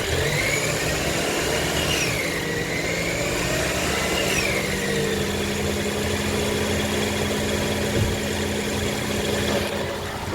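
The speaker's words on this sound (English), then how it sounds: "give it some throttle until the engine starts" A 2025 Toyota Camry engine idles with a steady, rough rumble and some vibration. It runs continuously and fairly loud throughout, with faint whining tones drifting over it.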